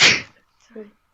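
A single sharp, breathy sneeze bursts out loudly, followed a moment later by a brief, quieter voiced sound.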